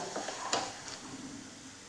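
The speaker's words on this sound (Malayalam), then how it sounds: "ഒരു ഒന്നോ രണ്ടോ മിനിറ്റ് നന്നായിട്ട് ഇളക്കി കൊടുക്കാം" Chili powder being stirred into a beetroot and date pickle in a pan, heard as faint, soft scraping strokes with a slight sizzle and one sharper scrape near the start.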